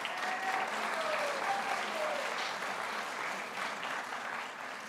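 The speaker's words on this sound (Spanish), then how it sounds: "Pido un fuerte aplauso para los graduandos." Sustained applause from a graduation audience honoring master's graduates in administration and education at a diploma ceremony, a steady dense clapping wash lasting throughout without speech.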